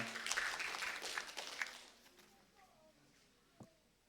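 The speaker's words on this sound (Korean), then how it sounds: "우리 다 같이 박수로 환영하겠습니다." Church congregation applauding in welcome during a Sunday worship service, a burst of clapping that fades after a couple of seconds into quiet room noise with a faint thump near the end.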